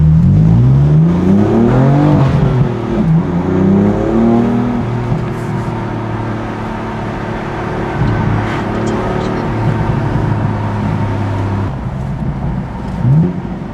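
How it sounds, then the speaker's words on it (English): A 2020 BMW M4 manual with active sport exhaust in Sport Plus mode revs and downshifts with rev matching, engine pitch sweeping up and down loudly and close, with brief pops, under occasional talk. "Just listen to those downshifts."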